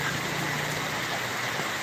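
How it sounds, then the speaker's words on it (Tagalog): Heavy rain pours down steadily as a dense, even hiss that fills the short stretch without pause. "Lumalakas na naman ang ulan."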